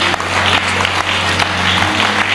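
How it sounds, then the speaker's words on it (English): A church conference congregation claps in a large dome hall, a steady dense patter of hands with a low electrical hum beneath, sounding thin and sustained. "Your clap is weak."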